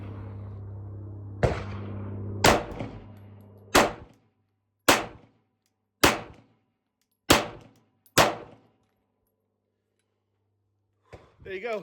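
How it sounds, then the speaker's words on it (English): A Glock 35 .40 caliber pistol fires seven sharp, loud reports at roughly one-second intervals, each ringing briefly before it fades, with a few words spoken at the start and the end. "17 rounds through that 40 cal magazine."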